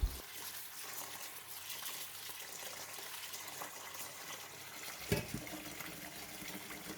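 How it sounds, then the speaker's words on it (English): Water runs steadily into a basin of brown rice grains, a continuous close gushing and trickling with one brief clunk near the end. "Fill the basin with water and allow the grains to submerge in the water."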